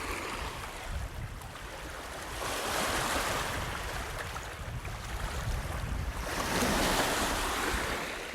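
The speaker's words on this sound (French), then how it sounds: "Voilà le petit son des vagues du lac supérieur" Waves rolling onto the shore of Lake Superior in Canada, a soft, continuous wash of surf that swells in two broad surges, heard at moderate distance with some wind noise on the microphone.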